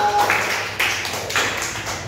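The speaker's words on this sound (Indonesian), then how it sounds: "Tepuk tangan buat Mas Arya." A small classroom group gives a short round of applause for a student during a coding lesson on basic artificial intelligence. The clapping is close and uneven, with a few loose bursts over two seconds.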